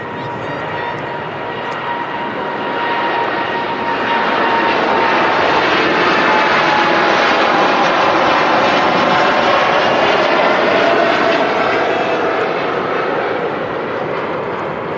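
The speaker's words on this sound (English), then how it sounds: "The Gulf Air Dreamliner departing Manchester Airport." A Gulf Air Boeing 787 Dreamliner jet taking off from Manchester Airport, a loud, sustained engine roar that builds over the first few seconds and holds steady, with a whining tone running through it.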